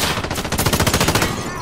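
Rapid automatic gunfire from a Call of Duty match, a loud, steady burst of evenly spaced shots rattling for over a second before trailing off.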